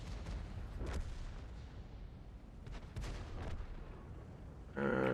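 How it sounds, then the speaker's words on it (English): Tank cannon firing an armor-piercing shot in a tank battle video game: a couple of heavy booms stand out over continuous rumbling battle noise, with a louder burst of engine-like sound at the end. "I just accidentally fired an AP shot"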